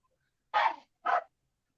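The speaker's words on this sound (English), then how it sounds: "that's my dog barking" A dog barks twice in quick succession, close by, with silence before and after.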